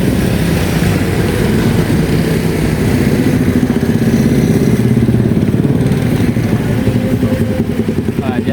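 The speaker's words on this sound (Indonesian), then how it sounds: "berupa roller ya, vibro roller, sedang meratakan area yang nantinya akan dilakukan pengecoran" A vibratory roller compacting and levelling a road area ahead of concrete pouring on Jalan Raya Serang Baru Cibarusah, a loud continuous pulsing engine drone with rhythmic vibration, close and steady throughout.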